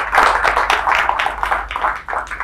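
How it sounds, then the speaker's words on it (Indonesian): An audience claps for a guest speaker at an Indonesian talk show on disaster mitigation in schools, a dense, steady patter of many hands at moderate loudness lasting the whole stretch with no voices over it. "Kita beri tepuk tangan dulu untuk narasumber kita."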